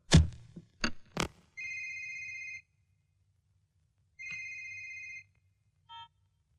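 A phone ringtone sounds twice, each ring about a second long with a pause between, followed by a brief third chirp, all after a few sharp knocks.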